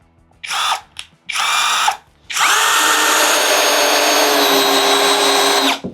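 A cordless drill from a battery-powered tool set drives number-five screws into wood: two short whirring bursts, then one long continuous high-pitched run of about three seconds that stops abruptly, close and loud with no talk.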